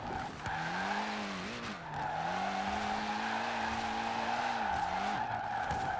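Ford Puma tires skid and squeal in a sustained front-wheel-drive drift in Forza Horizon 4, a loud continuous screech with a wavering pitch running the whole time over steady engine drone, no talking.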